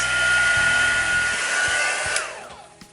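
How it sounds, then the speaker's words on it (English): Heat gun blowing hot air onto painted letters, a loud steady whooshing whine that cuts off near the end, leaving a faint trailing hiss. "I'm going to give that a heat blast and just heat the paint on those letters."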